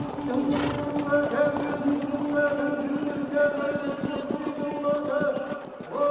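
Horses ridden by children on victory laps at the Naadam festival in Mongolia, a loose run of hoofbeats on open ground mixed with other outdoor sound, while a steady droning tone runs underneath and a voice is faintly present.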